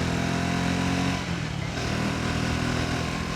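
A Triumph Speed 350 motorcycle cruises above 80 km/h, its engine a steady close drone blended with heavy wind rush, holding an even level throughout.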